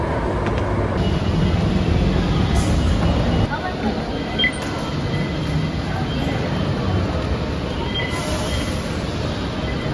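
LRT light rail train at Pitex station, with a steady loud rumble of the moving train throughout and faint squeals and background noise.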